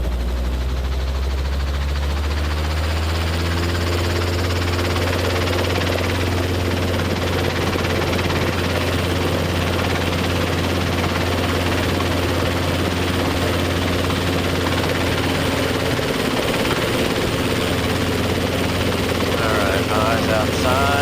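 Robinson R22 training helicopter hovering and practising autorotations, with a loud, steady engine drone and rotor hum throughout, a brief pitch shift near the end, and an instructor talking over the intercom.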